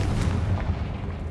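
A deep, rumbling boom from the Confringo explosion spell in the video game Hogwarts Legacy fills the space with low, sustained, loud energy and no distinct separate blasts.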